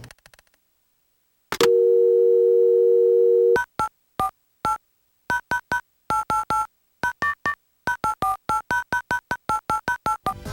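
Phone dialer tones from the Rhythm Heaven minigame on Nintendo DS: a sustained dial tone, then a long series of short, sharp electronic beeps in quick, uneven bursts, loud and clean against silence.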